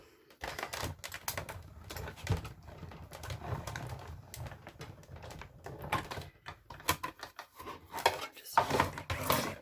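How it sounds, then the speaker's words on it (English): Card pieces for a birthday card are run through a die-cutting machine, producing a close, irregular series of dry clicks, creaks and clattering taps throughout. "And I'll just die cut these through."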